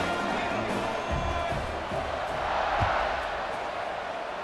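Stadium crowd in the College Football 26 video game roaring and cheering steadily after a scoring drive, a dense continuous wash of noise with a few thumps beneath it.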